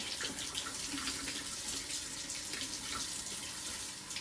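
Hot water runs steadily from a tap into a sink, an even splashing hiss at moderate level with no voices.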